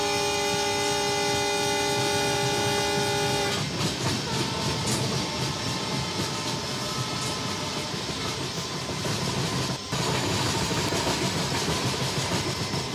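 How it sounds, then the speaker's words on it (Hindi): The Mitali Express train from Bangladesh rolling on its tracks: a loud, constant rumble and rattle of wheels and carriages, opening with a long sustained horn tone that cuts off after a few seconds, with a brief clunk later on. "ये ट्रैक साउंड के साथ बहुत ज्यादा शोर हो रहा है"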